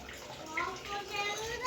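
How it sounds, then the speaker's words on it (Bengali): Water runs steadily from a household tap, a close, splashing flow with a faint trickling texture, while someone talks over it. "আমাদের কীরকম জল পড়ছে খালি জল।"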